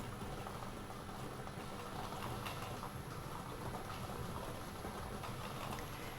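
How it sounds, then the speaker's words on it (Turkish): A lottery draw machine mixes its balls with a faint, steady, dense rattling wash that stays even throughout, with no speech. "makinemiz artı bir şanslı numarayı belirlemek üzere toplarını karıştırmaya başladı"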